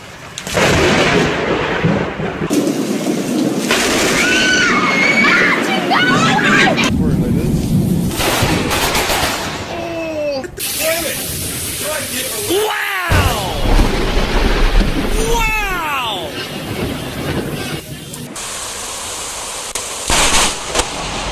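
Thunder from lightning strikes in a severe thunderstorm, including a strike that hit a nearby tree, booms and rumbles loudly through most of the stretch as rain falls, with people exclaiming over it.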